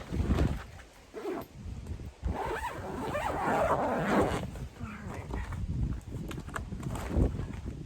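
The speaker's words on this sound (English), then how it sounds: "so it's zippered up pretty good" A zipper runs along a walk-in greenhouse cover in several rasping pulls, mixed with plastic sheeting rustle and flapping in wind, close by.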